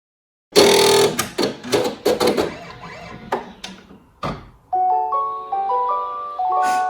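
Brother PR1X embroidery machine stitching a small letter O: a few seconds of quick, close mechanical needle bursts and clicks, then a short electronic beep melody, with no voices.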